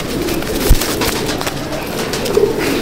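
A pigeon of the Andhra line Fulsira breed gives one brief, low coo in a loft, standing out faintly against a steady wash of background noise.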